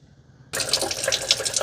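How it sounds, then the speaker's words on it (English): Water pours into the mop tank of an Ecovacs Deebot N20 Plus robot vacuum, starting abruptly after a short quiet moment and running as a steady, loud splashing stream to the end. "Let's add some water."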